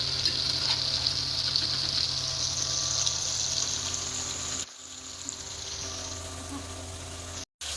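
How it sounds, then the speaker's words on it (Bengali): Spices fry in hot oil in a pan with a steady, close sizzle that continues throughout and drops away briefly near the end. "ভালোভাবে ভাজা হয়ে গেছে মশলাটা আর সাইডে কিন্তু তেল তেলও বেরিয়ে এসছে"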